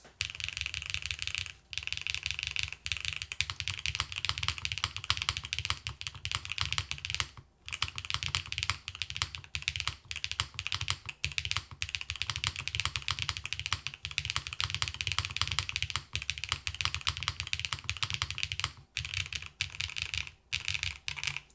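Typing on a stock, foam-filled Neo75 prebuilt mechanical keyboard: a rapid, dense stream of close, muted key clacks with brief pauses, continuing for about twenty seconds with no talking.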